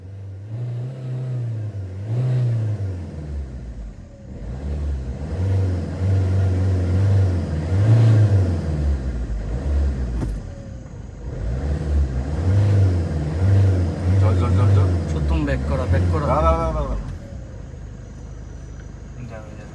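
A car engine revs hard in repeated surges, its pitch climbing and dropping during an informal race, while excited voices shout over the engine noise.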